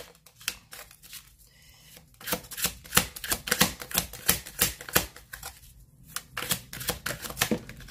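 Tarot cards shuffled by hand, a rapid run of crisp, close riffling clicks and slaps in irregular bursts with a brief lull midway, and no speech.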